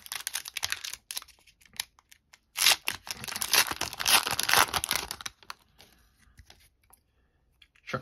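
A 2003-04 Pacific hockey card pack torn open up close, a burst of crinkling, ripping foil wrapper over a few seconds, with scattered faint clicks and rustles before and after.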